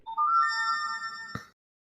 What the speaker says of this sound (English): Android notification noise.